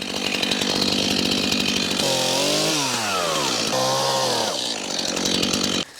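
A loud chainsaw runs continuously nearby, its engine pitch rising and falling as it bites into a fallen tree, then cuts off abruptly near the end.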